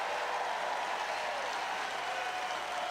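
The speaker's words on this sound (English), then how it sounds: "He's barely applauding." Sparse applause from a crowd, a faint, thin patter of clapping that holds steady for a few seconds.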